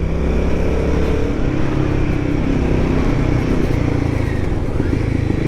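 Royal Enfield Guerrilla 450 motorcycle engine running steadily in a lower gear on a poor, mucky, winding mountain road, a loud continuous close rumble with wind noise and no clear rev change.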